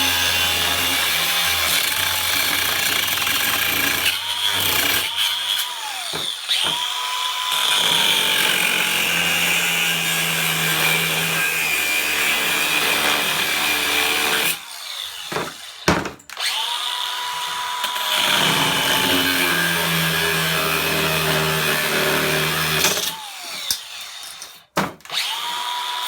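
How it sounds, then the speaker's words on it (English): Power tool cutting through the steering wheel of a 1957 Chevy Nomad, a steady loud grinding whine running through the clip, broken by a few short pauses where the cut stops and restarts. "I'm going to cut through the wheel now"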